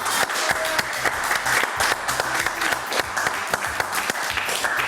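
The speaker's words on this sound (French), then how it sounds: "On l'applaudit très très fort." Studio audience applauds loudly at a French television comedy show, a dense, steady wash of clapping that carries on throughout without talk.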